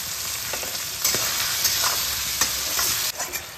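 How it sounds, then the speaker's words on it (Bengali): Chopped pumpkin, potato and tomato with salt fry in fish oil, a loud continuous sizzle broken by several scraping stirs of the spoon, with no speech. "দিয়ে সবজিগুলোকে ভালো করে তেলের মধ্যে ভেজে নেব।"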